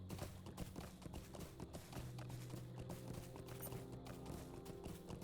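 Horse hooves clip-clopping in Lord of the Rings Online, a steady galloping rhythm of near, moderately loud hoofbeats over a continuous background of game ambience and music.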